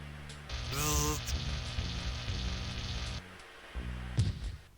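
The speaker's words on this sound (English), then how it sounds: "the static energy you built up discharged, frying Lard Boy's circuitry" Static discharge fries a robot's circuitry in the Space Quest 6 video game, a short electric zap followed by a few seconds of crackling, sizzling buzz with a couple of small pops.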